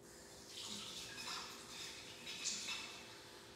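Tap water runs quietly in a soft, steady stream while something is rinsed off during work on a custom action figure, heard faint and brief with no talking.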